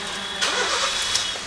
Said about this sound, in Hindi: तो न्यूट्रल में डाल के हम लोग गाड़ी को करेंगे स्टार्ट।